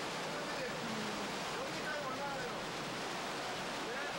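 Rushing water near a waterfall in New Zealand, heard from a kayak as a steady, loud, broadband roar of fast-flowing current with no pauses.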